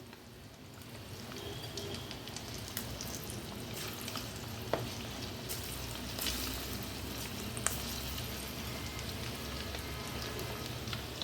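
Small mourola fish pakoras fry in hot oil, giving a steady, moderate bubbling hiss with occasional sharp crackles and pops, heard alone without voices.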